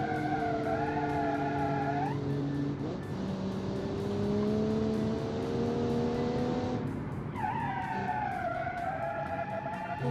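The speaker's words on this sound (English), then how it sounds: "Car definitely revs a bit higher than the Studebaker does." A GT race car in BeamNG Drive revs high, its engine tone climbing through the gears and dropping with each shift, loud and close, alone without voices.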